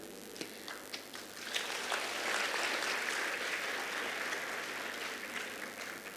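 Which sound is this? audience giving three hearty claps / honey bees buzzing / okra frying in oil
audience giving three hearty claps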